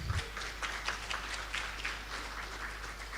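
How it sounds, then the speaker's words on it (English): Audience applause at an international seminar on low-carbon affordable housing: steady, dense clapping that holds fairly even for a few seconds, moderately loud and without talk over it. "Let's applaud Prof. Takashi and all the speakers once again."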